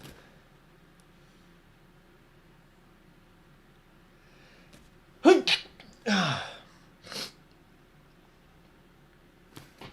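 A person sneezes during a live podcast, a sharp burst followed by a second louder sneeze and a trailing breath, alone against near silence.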